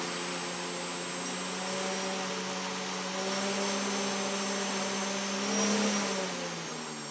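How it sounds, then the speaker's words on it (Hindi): A drone motor run at home spins at high speed, giving a loud, steady whine with a constant hum that swells slightly as the speed changes, and no voices. "इसकी जो मोटर की स्पीड है कितनी ज़्यादा है ऐसा लग रहा है कि कोई बाइक चल रही हो बहुत ही ज़्यादा शोर शराबा हो रहा था इस मोटर के साथ में"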